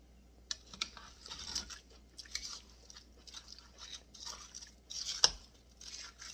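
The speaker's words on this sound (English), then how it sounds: "I'm going to take those and I'm going to give those a stir" Fresh tomatoes stirred into a chicken cassoulet make soft, close, intermittent squishing and scraping sounds in short bursts, with one sharper clack near the end.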